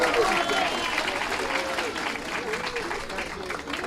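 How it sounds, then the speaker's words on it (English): Steady, dense applause from an audience of guests at an outdoor dedication and ribbon-cutting ceremony, loud and continuous, with some voices and cheers mixed into the clapping. "Give them another big round of applause,"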